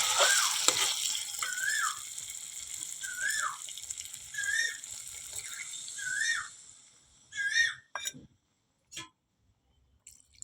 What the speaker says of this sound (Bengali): তারপরে জল দিই দেখো বন্ধুরা পটল আলুটা কষানো হয়ে গেছে এবারে জল দিই